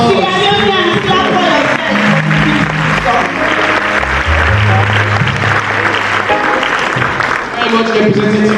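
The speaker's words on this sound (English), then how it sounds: "Big hand of applause. Sierra Leoneans, clap" A crowd of Sierra Leoneans claps and cheers in a loud, dense mass of hands, while music or singing runs underneath and a few voices rise through the noise the whole time.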